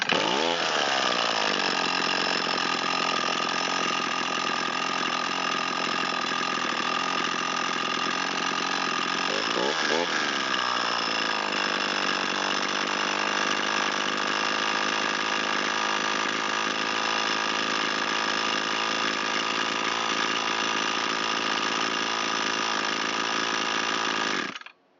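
A long-unused Echo SRM225 string trimmer, its small two-stroke engine running at a high-pitched buzzing rev, dipping briefly near the middle, then settling into a steady idle before cutting off abruptly at the end.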